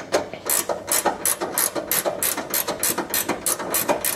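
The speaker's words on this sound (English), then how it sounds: "just tighten that up until that sandwiches it nice and bonny" Spanner ratcheting quickly to tighten a side ladder bolt on a VW T25 Vanagon van, a close, crisp run of rapid clicks in steady strokes.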